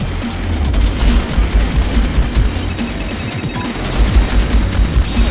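Rapid bursts of spaceship gunfire in the space combat game Strike Suit Infinity, dense repeated shots and booms over a continuous loud game soundscape, no voices.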